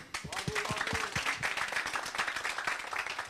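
Clapping from an audience for performing artists, a fairly close, continuous patter of hands with voices audible over the first second and low talk mixed underneath.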